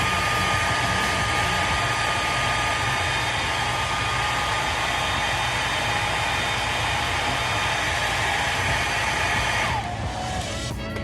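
A hair dryer blow-drying a closure wig, steady loud whooshing airflow running almost continuously, shifting briefly near the end as the setting or angle changes.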